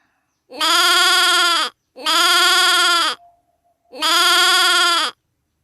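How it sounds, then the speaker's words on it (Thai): A goat bleats three times, each cry long, loud and close, separated by short pauses, with nothing else around it. "คำตอบค่ะ เสียง แพะ"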